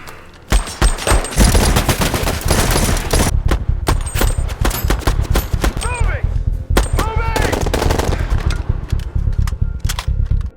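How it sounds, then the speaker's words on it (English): A film gun battle with police, loud bursts of rapid machine-gun and rifle fire in dense clusters with short gaps, close and continuous, with ringing high tones and a few whizzing sweeps between volleys. "cops intercept them, kicking off a gun battle."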